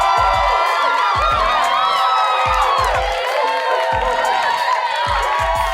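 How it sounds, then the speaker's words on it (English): Fans cheer, whoop and clap in a tribute to retiring Pittsburgh Steelers quarterback Ben Roethlisberger, a loud crowd roar with shouting over a pulsing beat of music, sustained for several seconds. "So round of applause to Big Ben"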